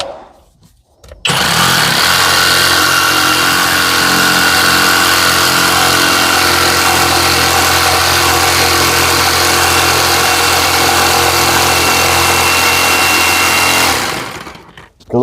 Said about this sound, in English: So what I want to do is put a bigger tooth jigsaw blade on it.